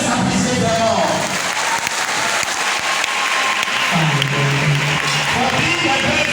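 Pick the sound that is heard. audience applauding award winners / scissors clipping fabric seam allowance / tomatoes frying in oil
audience applauding award winners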